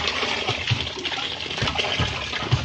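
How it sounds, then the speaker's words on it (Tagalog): Water is poured out by hand at a house construction site, a close, splashing gush with small uneven gurgles and spatters over a few seconds. "Buhusan ko pa rin."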